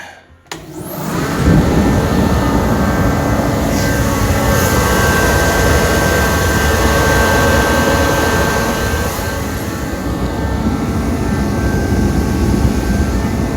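A DeWalt 215,000 BTU jet heater fires up and roars steadily after a brief start, a loud continuous broadband whoosh with a faint high whine, holding level for the rest of the stretch with no talk.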